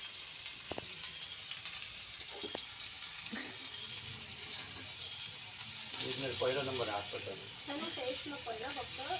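Chicken fries in oil on a clay roof tile over a wood-fired stove outdoors, giving a soft, steady sizzle at moderate distance while voices talk over it.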